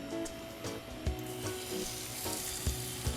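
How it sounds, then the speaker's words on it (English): Snapper fish sizzles steadily in melted butter in a pan, a soft continuous frying crackle with occasional low knocks and scraping as it shifts, fairly quiet and without talk. "Hear that sizzling?"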